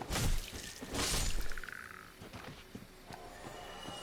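A toad frog creature in a video game croaks and rasps, mixed with bursts of bright game effects and scattered thumps and clicks, fairly quiet and without talk.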